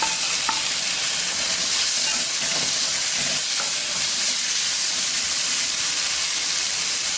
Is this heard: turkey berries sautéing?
yes